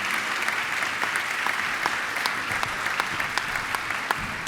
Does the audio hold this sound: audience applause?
yes